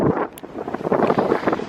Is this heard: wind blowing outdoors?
yes